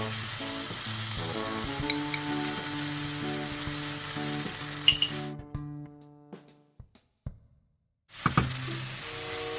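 Turmeric and chili paste fry in a hot pan for bitter melon prawn sambal, a loud continuous sizzle with a few light clinks, then the hiss drops away to near silence before returning strongly.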